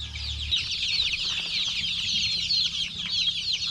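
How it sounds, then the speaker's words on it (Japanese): A large flock of chicks in a poultry house on a farm on Negros Island, Philippines, cheeps in a dense, continuous, high-pitched chorus. It is close and steady, with a low hum under the first half-second. "すごいたくさんいるひよこが"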